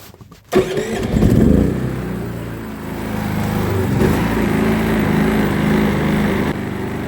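A KS 4000iEG S dual-fuel generator running on petrol is pulled into life with a short crank, then catches and settles into a loud, steady engine drone close by, with no voices.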